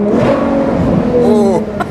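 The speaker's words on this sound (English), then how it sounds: "Oh yes, listen to that V12." An open-top Ferrari 812 GTS V12 revs hard up close, a high, smooth wail that climbs and then drops away sharply near the end.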